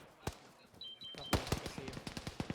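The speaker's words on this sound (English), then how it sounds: "Bravo reported that machine gun a bit closer, about 400." Machine-gun fire during a military field training exercise comes as a few sharp shots and then a quick ragged burst of pops, moderately distant, with faint radio-like tones.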